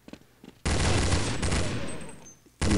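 Sustained bursts of gunfire in Counter-Strike zombie multiplayer, loud and dense for about two seconds before fading, then resuming abruptly, with a few short shots just before.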